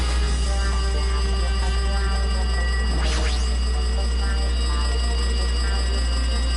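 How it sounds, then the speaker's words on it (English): A cell phone rings in Super Danganronpa 2, a steady, loud electronic ringtone with sustained tonal layers over a constant low hum, with one brief sweeping sound midway. "It looks like the phone is ringing."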